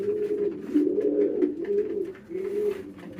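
Pigeons at a rainy pigeon market coo close by in low, throaty, rolling calls, a few overlapping phrases with brief pauses between them.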